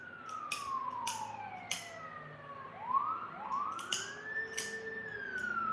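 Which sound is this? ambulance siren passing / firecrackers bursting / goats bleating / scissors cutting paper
ambulance siren passing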